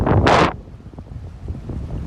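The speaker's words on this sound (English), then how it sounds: "Being impacted by wind again." Strong gusts of storm wind buffet the microphone in a loud, roaring burst over the first half second, then ease into a lower, rumbling wind noise that lingers to the end, with no talking.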